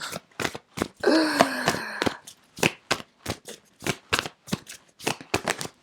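Tarot oracle cards being shuffled up close in quick repeated riffles and slaps, a rhythmic run of sharp papery bursts with a longer flurry near the start and no talk.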